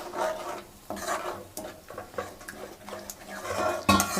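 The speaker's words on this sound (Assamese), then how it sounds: "এয়া অলপ পানী দি লৰাই দিছোঁ।" Egg curry being stirred in a pan after water is added, repeated scraping strokes of a spoon against the pan in an uneven rhythm over a faint simmering sizzle, close and fairly quiet.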